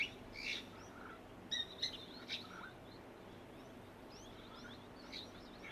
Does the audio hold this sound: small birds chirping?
yes